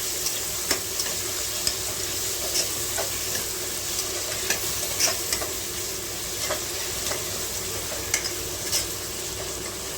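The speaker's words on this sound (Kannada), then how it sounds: "ಈ ಟೊಮೊಟೊ ಸ್ವಲ್ಪ ಚೆನ್ನಾಗಿ ಬೇಯಲಿ ಎಣ್ಣೆಯಲ್ಲಿ." Tomatoes frying in oil in a pan after golden onions, a steady close sizzle throughout with occasional stirring clicks and scrapes, no talking.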